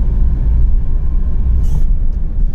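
An old Maruti Suzuki Zen hatchback engine idles or runs with a low, steady rumble, loud and continuous throughout, with a faint hiss of something passing briefly near the end.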